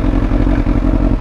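A superbike engine runs loud and close with a steady rough throb and clattering mechanical pulses, no voices.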